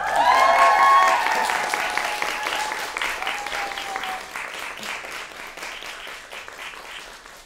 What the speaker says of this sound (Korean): 박수 한번 부탁드릴게요.